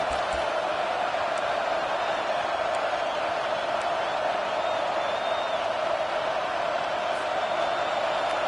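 A home crowd at a football game sustains a steady, broad roar of noise throughout, dense and even in loudness with no distinct voices standing out.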